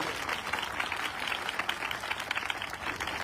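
Audience at a large church meeting in Gurdaspur claps for a pastor: dense, steady applause from many hands, close and continuous throughout without voices standing out.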